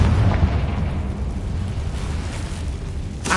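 A Confringo blasting spell in a wizard video game: a heavy, rumbling explosion that starts loud and decays slowly into a low roar, ending with a brief fresh burst.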